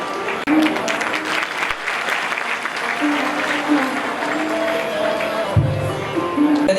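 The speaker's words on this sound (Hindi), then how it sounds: "इसलिए एक बार संतों के लिए सुंदर करतल ध्वनि" Audience applause for saints at an annual saints' gathering, sustained clapping from a large crowd with a voice talking over it and a brief thump partway through.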